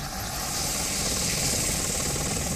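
A combat helicopter flies steadily, its rotor and engine making a dense, continuous roar that stays loud and even throughout, with no talking.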